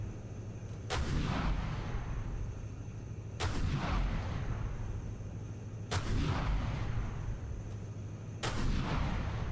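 Enemy ship turret firing in the ShipCrafter video game: four heavy booming shots at roughly even intervals, each with a long rumbling decay over a steady low background hum.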